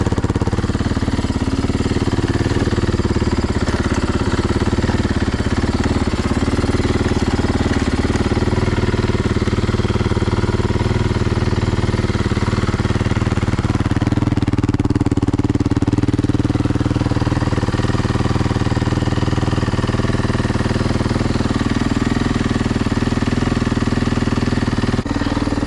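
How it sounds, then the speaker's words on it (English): A rebuilt Yamaha YZ450 dirt bike engine runs steadily on a first start after a full rebuild, a loud, continuous close-up idle with a dense low rumble and slight fluctuations in pitch throughout. "first time hearing the bike run since I blew it up"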